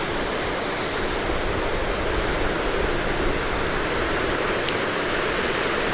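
Waves break over a sandbank at a river mouth in a steady, loud, unbroken roar of surf and rushing water with no pauses.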